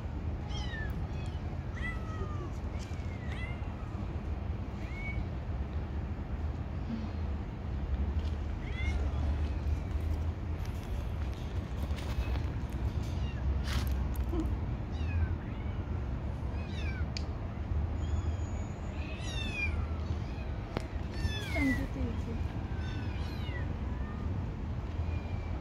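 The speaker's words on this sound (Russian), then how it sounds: "Парк просто разнообразен на пород кошек. Кошек, котов, котят" Many cats in a cat park in Istanbul meow repeatedly at varying distances, some close and loud, others faint, over steady outdoor background noise with intermittent voices.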